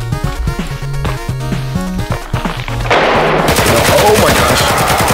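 Shotgun blasts in the Roblox game Hellmet, rapid loud bursts of gunfire that become a dense, roaring barrage over pulsing in-game music.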